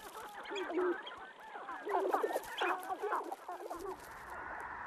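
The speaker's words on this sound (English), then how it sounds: "Sharp-tailed grouse are gathering on their communal display grounds." Sharp-tailed grouse on a communal spring display ground, several birds giving busy clucking, cooing and cackling calls that overlap in bursts, moderately close over a quiet outdoor background.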